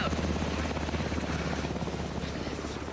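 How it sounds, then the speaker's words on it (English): A helicopter in the video game Alan Wake 2 thrums steadily with a rapid rotor chop, loud and close, holding its level and easing only slightly toward the end. "That's a helicopter."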